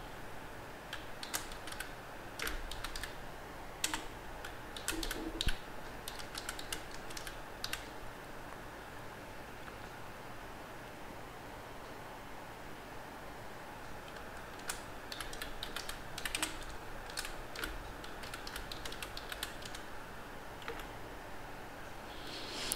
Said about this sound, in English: I'm just typing the details.